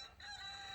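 A chicken gives a brief, faint, crowing cluck from a distance, one short call with nothing else alongside it.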